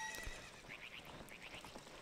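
A horse whinnies in the video game The Legend of Zelda: Ocarina of Time, a faint, high, wavering neigh repeated in short pulses over a soft game background.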